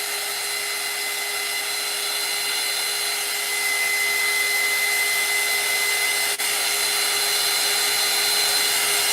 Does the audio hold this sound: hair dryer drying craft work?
yes